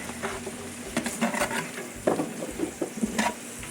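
Shallots frying in oil in a large pot for a big batch of rabbit stew, a soft steady sizzle with occasional stirring clinks, fairly quiet.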